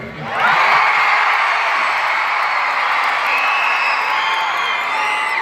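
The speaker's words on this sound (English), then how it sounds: "Okay, now can everybody cheer?" A large youth crowd at a Jr Riders rally in Ottawa breaks into loud cheering and whooping that swells quickly and then stays at a steady roar throughout, high-pitched and close, with children's shouts mixed in.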